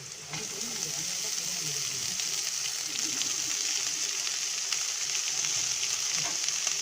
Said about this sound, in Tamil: இப்போ கீரையை வந்து நல்லா கலந்து விட்டுக்கலாம்